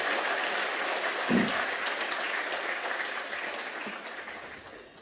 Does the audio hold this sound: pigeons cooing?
no